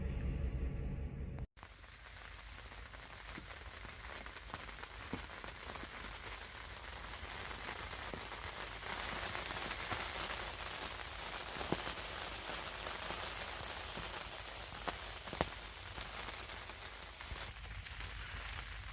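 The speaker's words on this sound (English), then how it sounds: "got a light rain going right now" Light rain patters steadily on surfaces at a deer camp in Oklahoma, a soft continuous hiss with occasional louder drops, no voices.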